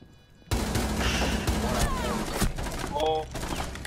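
Rapid gunfire in the tactical shooter Rainbow Six Siege, bursts of shots erupting suddenly after a quiet start and continuing in clustered volleys with game effects, while a player talks over it.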